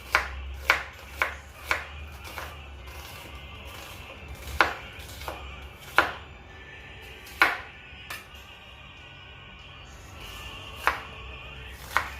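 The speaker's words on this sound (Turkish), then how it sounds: "Soğanları söğüşlük olarak doğrayıp ortadan ikiye böldüm." A knife chops onions on a cutting board in about a dozen sharp, irregularly spaced strikes over a low, steady background hum.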